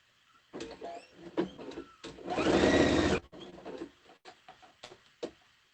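A sewing machine stitches quilt-as-you-go hot pads in short bursts of rapid needle rattle, with one longer steady run in the middle, close and clear between pauses.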